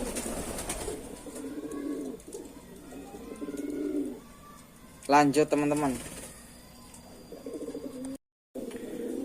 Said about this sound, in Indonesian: ini ada burung merpati yang habis dijemur. Saya biarin bekur-bekur.